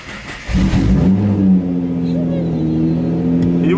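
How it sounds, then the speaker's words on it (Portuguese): A modified Nissan GT-R R35 engine cranks and fires up near the start, then settles into a loud, steady, deep idle with rising harmonic hum, recorded close inside or beside the car. "Se ajeita aí que o pai vai ligar o GTR."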